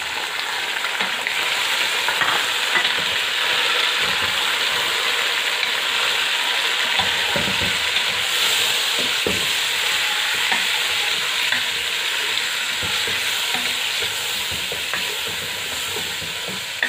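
Beef frying with medium-browned onions while being stirred for a beef salan: a loud, continuous sizzle and crackle with frequent scraping stir sounds, no talking.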